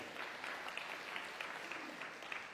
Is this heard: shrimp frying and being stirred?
no